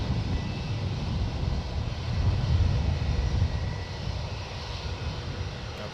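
An Airbus airliner taxiing out for departure at San Francisco International Airport, a steady low engine rumble and roar that swells slightly midway then eases, heard from a distance with no talk.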